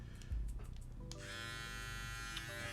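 A Kemei KM5027 electric hair trimmer switches on with a click, then holds a steady, close, high-pitched buzzing hum that runs on alone.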